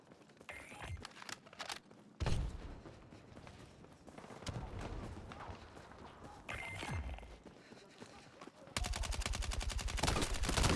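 Gunfire in Battlefield 6: scattered shots and bursts through the first part, then a loud, steady stream of rapid automatic fire at the end, close and dominant.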